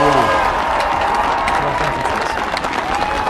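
Sustained applause from a large crowd at Joe Biden's presidential inauguration ceremony, dense and continuous, with cheering and a voice faintly audible beneath the clapping.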